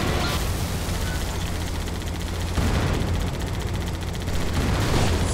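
Dense, continuous gunfire from Halo 2, played on PC at Legendary difficulty, with loud overlapping shots and bursts sustained throughout.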